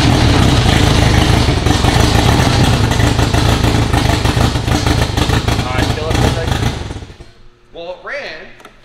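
A project car engine cranks over and runs rough and loud for several seconds, then cuts out, leaving a brief quieter stretch with voices talking over it.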